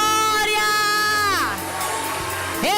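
Church conference crowd at a G12 pre-convention in Fortaleza cheering loudly, with sustained shouts and whoops of rising and falling voices that fill the whole moment.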